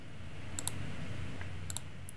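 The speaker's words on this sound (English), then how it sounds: "simply by clicking several gradient options" Computer mouse clicking through gradient options in desktop publishing software: a few crisp, close clicks in quick pairs, spread over two seconds against a low steady room hum, with no talk.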